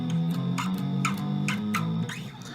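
Electric guitar with a distorted effect plays power chords that slide up from E5 to A, with rhythmic strummed hits repeating at a steady, quick pace over about two and a half seconds.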